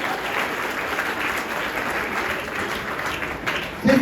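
Steady applause from a school audience at a felicitation program, many hands clapping continuously at an even level, with a brief louder sound near the very end.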